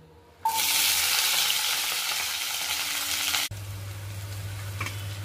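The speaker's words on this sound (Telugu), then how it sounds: "కట్ చేసిన ఆనియన్, పచ్చిమిర్చి అన్నీ తాలింపు వేసుకుందాం" Loud sizzling of chopped onions and green chilies dropped into hot oil starts abruptly, crackles steadily for a few seconds, then quiets to a softer fry over a low hum.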